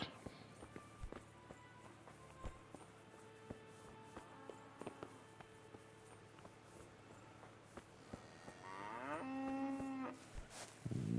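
A cow moos in the medieval role-playing video game Kingdom Come: Deliverance, with a drawn-out lowing call near the end over quiet ambience and scattered footsteps and clops.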